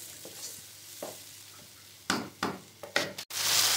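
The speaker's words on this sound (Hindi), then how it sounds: "तो इतनी देर के लिए भूनेंगे कि ऑयल इसका अच्छी तरह से रिड्यूस हो जाए" Tomato paste masala fries in oil in a pan for a bhindi masala dish, hissing steadily with close scraping and stirring strokes and a louder sizzling surge toward the end, with no talking.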